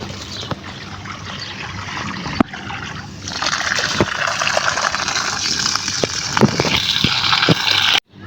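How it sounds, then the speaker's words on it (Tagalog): Steady rushing of water pouring and splashing into the basins around tamarind trees for several seconds, with a few faint knocks, ending abruptly. "nilagyan ko ng ponduhan ng tubig"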